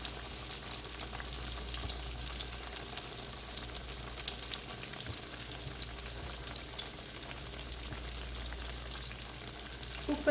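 Slices of brinjal (eggplant) fry in a pan, a continuous dense sizzle and crackle of hot oil that holds steady throughout.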